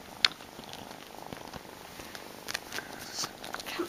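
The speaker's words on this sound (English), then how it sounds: "That's my kitten Patches" A kitten purrs softly and steadily up close, a low continuous rumble with a few small rustles and a brief sharp tap near the start.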